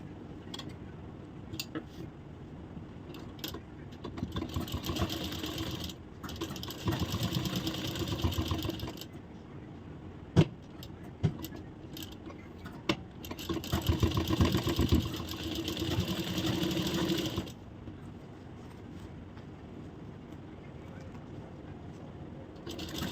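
A sewing machine runs a blouse fitting seam in long steady bursts with brief stops and a few clicks, close and moderately loud.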